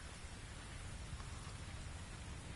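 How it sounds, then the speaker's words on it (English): Steady, dense rain falls in the video game The Invisible Hours, an even hiss of downpour across the whole moment with no voices. "Could I persuade you to come out of the rain, Flora"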